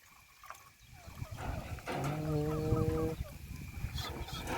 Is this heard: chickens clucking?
yes